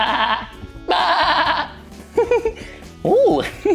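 A man imitates sheep bleating on a farm, with several exaggerated wavering baa calls in quick succession, loud and close, mixed with brief spoken bits.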